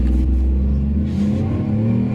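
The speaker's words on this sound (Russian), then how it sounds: "Автомобильчик разгоняется просто супер." A Peugeot 301 with a 1.2 engine running on LPG (Landi Renzo gas system) accelerates hard from a standing start, its engine drone strong and rising in pitch; loud and close, heard from inside the cabin, with no talking.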